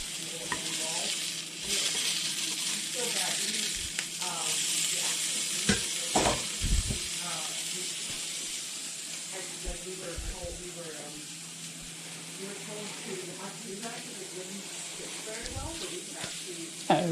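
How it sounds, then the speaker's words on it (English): Food fries in a pan, a steady broad sizzle running underneath the whole stretch, with intermittent voices and some stirring or clattering on top. "So I'm just frying one up to taste."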